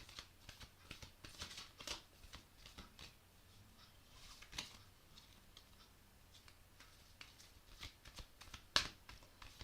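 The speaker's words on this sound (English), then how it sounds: "go a bit higher to the camera so you can see the cards being shuffled." Quiet, rapid riffling of playing cards being shuffled, repeated crisp flutters and taps close by with no talking.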